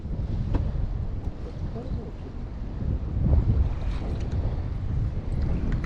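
Strong wind buffets a boat anchored on the Pechora river, a rough, gusty rumble blowing against the microphone that swells and eases throughout, with faint background voices.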